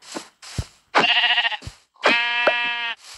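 Sheep bleat in the Minecraft video game, two loud, close, wavering baas separated by short thumping footsteps or hits, with no talking.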